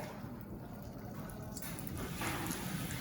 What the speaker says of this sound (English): Rinse my hands a little bit.